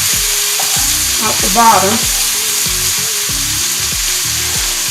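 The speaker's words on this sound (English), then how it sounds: "ahead and stir it so we can get some of the apples and bacon" Apples, bacon and cabbage frying loudly in a pan, a close, steady sizzle punctuated by repeated scraping stirs, with a brief spoken phrase partway through.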